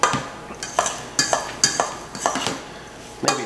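Cheese paste being mixed for a calzone filling in a bowl: a run of sharp utensil scrapes and clinks against the dish, irregular and close, with no talking.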